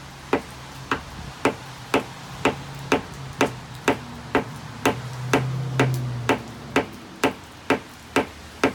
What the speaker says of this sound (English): Let's give it a couple of real good taps while it's hot.